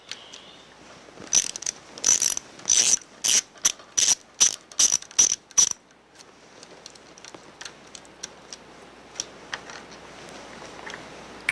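Ratchet wrench loosening the nut on a motor lead post of a manifold/pump assembly from a TS410 or TSD450 machine, a rapid series of loud close clicking bursts, then scattered lighter metallic ticks.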